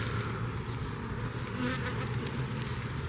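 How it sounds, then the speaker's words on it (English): A dense, steady hum of many honeybees buzzing up close, continuous and fairly loud throughout, with no voices. "there's bees and new brood everywhere"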